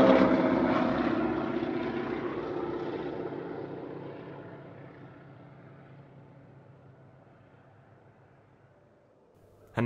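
Wingwalker display aircraft, one in faded orange Breitling colours and one in AeroSuperBatics flying circus livery, fly opposition passes at the East Kirkby airshow. The propeller drone is loud at first, then fades steadily into the distance.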